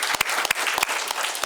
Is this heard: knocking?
no